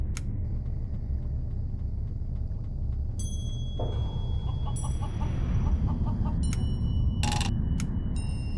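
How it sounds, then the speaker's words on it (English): In the video game Journey: Voyage to the Moon, a rooster aboard a spacecraft gives short clucks in brief bursts over a low steady rumble, alongside scattered electronic beeps and tones. "here's the rooster I smuggled on board"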